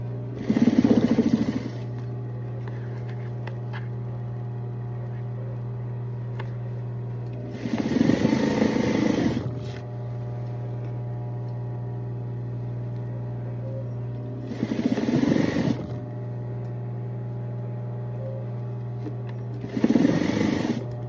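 A sewing machine stitches a buttonhole on a garment in short bursts of buzzing motor and rapid needle action, separated by long pauses filled with a steady background hum.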